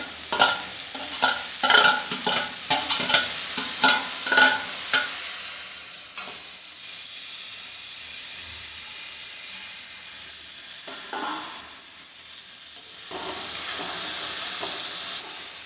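Beans and carrots sizzle in a hot pan while being stirred with a series of scraping strokes, then the frying hiss continues steadily and swells near the end.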